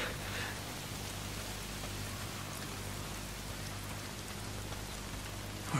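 Steady rain pours down in the Days Gone game world, an even hiss of drops on surfaces holding constant across the whole stretch, with no voices over it.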